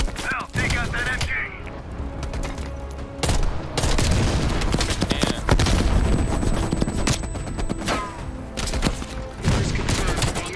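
Gunfire at a machine gun nest in Call of Duty: Black Ops Cold War, dense, loud continuous shooting and booms layered over rumbling battle noise throughout, with no pauses.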